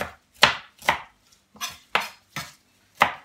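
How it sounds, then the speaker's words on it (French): Knife chopping fresh parsley on a cutting board for homemade steak, seven crisp, close, evenly spaced cuts with no talking. "Donc je vais commencer par ciseler mon persil."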